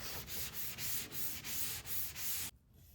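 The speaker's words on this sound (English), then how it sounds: "So I'm just taking my sander" An electric sander whirs against a primed wooden dresser in rhythmic pulses, about eight even strokes, then cuts off abruptly near the end.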